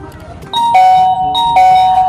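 A newly mounted home doorbell rings loudly twice in quick succession, each a bright two-tone chime close by.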